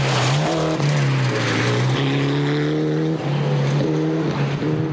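An open class rally car races through a gravel stage at Rally Otago, its engine howling loud and close with sharp gear changes and brief lifts as the revs rise and fall.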